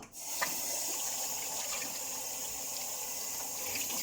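A kitchen tap runs steadily into a sink, a continuous close splashing gush that starts abruptly and holds at an even level, with no talk.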